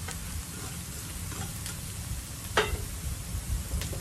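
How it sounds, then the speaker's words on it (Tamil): Carrots and beans frying in oil give off a steady, moderate sizzle with a few brief clinks of stirring, no voices over it. "கேரட் போட்டுட்டு நல்லா அவரை எண்ணெயில் கொஞ்சம் நேரம் வதங்க விடுங்க"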